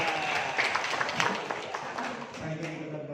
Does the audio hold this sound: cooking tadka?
no